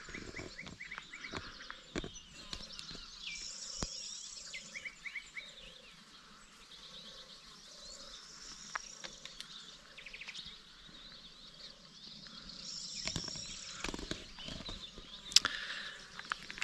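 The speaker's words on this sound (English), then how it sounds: "the sound of the birdsong is just stunning" Birdsong on the Meseta plain of northern Spain, with several birds whistling and trilling in repeated bursts over a steady low insect or frog-like drone, fairly faint and without talk.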